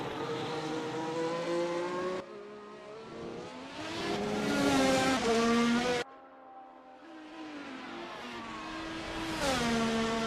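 A race car screams down the Abu Dhabi back straight in seventh gear at about 290 km/h, engine pitch climbing in loud rising sweeps with abrupt shifts as it passes close by.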